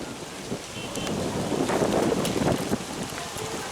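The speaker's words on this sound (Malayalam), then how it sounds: "ഭയങ്കര കാറ്റും അതിന് മുകളിൽ." Strong wind on a high rocky hilltop viewpoint roars across the microphone in loud, gusty buffeting that swells in the middle and stays constant throughout.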